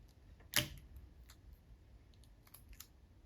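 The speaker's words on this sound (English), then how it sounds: "So I'm just going to keep taping." Corners are taped down for a sublimation printing project, with one sharp, quick tape rip followed by a few faint, light clicks and taps in a quiet room.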